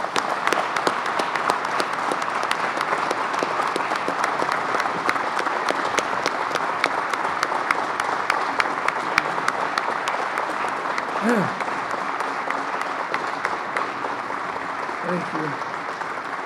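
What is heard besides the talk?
press conference audience applause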